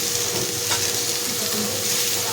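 Wheat flour chapati frankie frying in a pan, a steady close sizzle with light scraping throughout, no talking.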